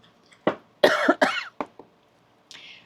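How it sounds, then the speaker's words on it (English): Several harsh coughs close to the microphone, a couple in quick succession, followed by a softer exhale or throat sound after a pause. "Now, all of a sudden, I'm coughing a lot in your reading"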